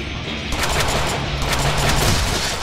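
Rapid continuous gunfire from Deadpool's gun in the Deadpool video game, a dense loud fusillade of overlapping shots sustained for the whole stretch with no pauses.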